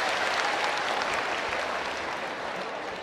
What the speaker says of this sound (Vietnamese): Nếu mà các bạn nghĩ là đáp án đúng thì cho bạn một tràng pháo tay ạ.